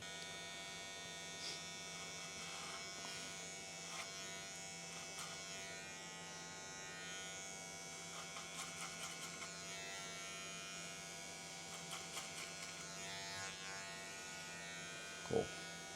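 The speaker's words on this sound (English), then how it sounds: "We're going to do that by using clipper over comb." Electric hair clippers buzz steadily while cutting hair clipper-over-comb on a skin fade, a constant close motor hum with small flutters as the blades pass through hair, ending with a brief click.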